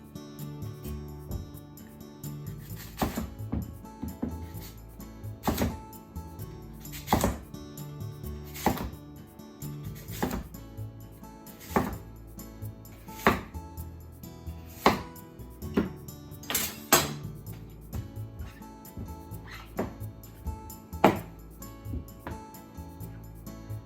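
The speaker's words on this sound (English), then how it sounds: "And cut it into 2 to 3 finger thickness all the way" A knife chops daikon radish into thick pieces on a board, sharp close knocks at an even, unhurried pace, around a dozen strokes with brief pauses between, no voices.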